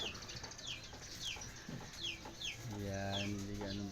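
Several chickens cluck and call in short repeated bursts against a low steady hum, with a faint voice in the background.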